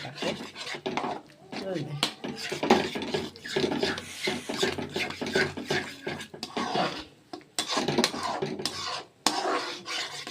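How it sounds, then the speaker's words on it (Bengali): Masala for rohu fish kalia is fried and stirred in a pan, giving a scraping, rasping stir with bursts of sizzle. A person talks over the cooking. "এখন মশলাটাকে ভুনছি যেন সাদা সাদা না হয়, ভালো মতো ভুনছি মশলাটাকে"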